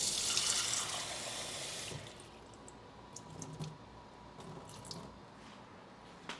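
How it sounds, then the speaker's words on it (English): Water runs from a tap into a container, a steady broadband hiss that is loudest in the first two seconds and then drops to a softer trickle with small drips and splashes. No one speaks. "I'm gonna grab this, fill it with some water"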